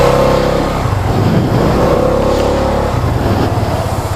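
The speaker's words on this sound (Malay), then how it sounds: "Jom kita test ride motor ni." A QJMOTOR AX200S motorcycle accelerating on an off-road test ride, its engine note loud and close, rising and falling through gear changes with wind noise around it.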